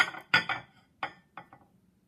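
Heavy Fry opalescent glass plates from the 1920s clink against one another as they are handled, several sharp ringing knocks in a short irregular burst, close and clear, then fading.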